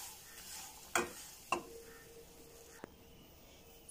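Jaggery syrup for peanut chikki stirred on a low simmer, a faint soft bubbling hiss broken by a few sharp taps of a spoon against the pan.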